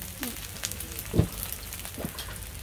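Aubergine slices fry in oil in a pan for a Catalan-style aubergine dish, giving a continuous close sizzle with scattered pops and crackles and no talk.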